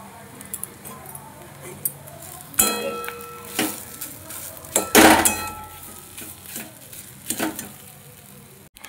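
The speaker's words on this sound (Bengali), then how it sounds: "খুব ভালোভাবে কষিয়ে নেব।" Fish cutlet mixture sautéed in a pan, with repeated metal scraping and clanks of a spatula against the pan over a soft background sizzle, with sharper clatters in the middle.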